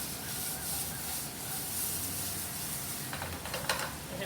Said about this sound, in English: There's a good sizzle.